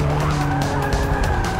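Renault 5 Turbo in Forza Motorsport 6 skids under late braking, a loud sustained engine drone mixed with rough tire scrubbing, continuous and close.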